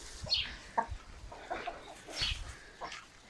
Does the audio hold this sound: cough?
no